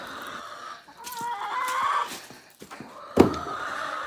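Chickens clucking nearby, a run of soft bird calls rising into a sharper squawk near the end, with faint rustling around them.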